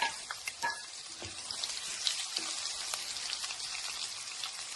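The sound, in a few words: curry leaves sizzling as they are added to hot oil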